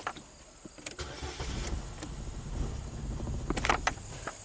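A Chevy Malibu with an intermittent stall and crank-no-start fault cranks for a long stretch, a steady labored churning that builds toward a catch, heard up close with no talking.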